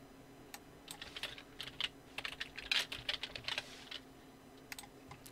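Typing on a computer keyboard, quiet and close, with irregular bursts of key clicks that speed up in the middle and fall off toward the end.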